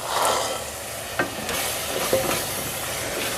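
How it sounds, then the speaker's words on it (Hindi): Green peas sizzle and fry in ghee and spiced masala while a spoon stirs them in the pan, giving a steady close crackle with a few scraping knocks. "मटर को अच्छे से भून लेंगे।"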